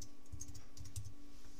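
Soft, quick clicking of keys on a computer keyboard while content is typed into a blank Blogger page, a close patter of light taps with a faint steady hum behind.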